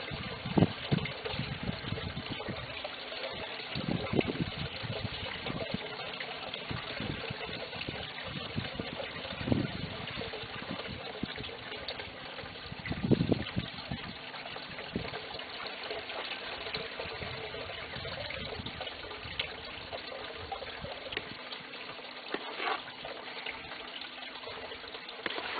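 A small water pump pushes roughly 5.5 gallons per minute through a 2-inch PVC gold trap separating black sand, producing a steady faint gushing flow with occasional splashes and no talking.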